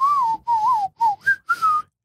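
A person whistles a short tune in five phrases, with wavering and gliding notes and clear gaps between them. The whistling is close and alone, with no talking.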